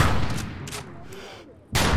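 Rifle fire in an Xbox One shooter game, a quick burst of shots at the start followed by a fading tail, then another sharp loud shot at the end.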